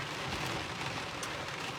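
Steady rain falls on a surface, a continuous soft hiss with fine patter, no voices.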